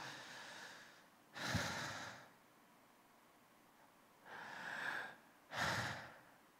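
A voice imitates laboured, effortful breathing: two drawn-out, forceful breaths, each followed by a sharp snorting exhale, with quiet pauses between them.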